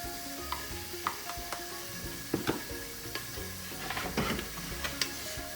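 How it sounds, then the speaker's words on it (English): Oil heating in an Instant Pot on sauté mode for mutton curry: a soft, steady sizzle with scattered clicks and scrapes of a stirring spoon, close and fairly quiet, no voices. "instant pot is on saute mode"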